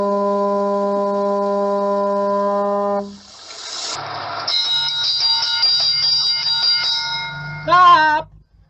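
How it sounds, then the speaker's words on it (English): A bell rings with a steady, sustained tone for about three seconds, followed by clattering, scraping sounds and a final warbling, wavering ring that cuts off abruptly. "That is my second favorite bell in the whole world."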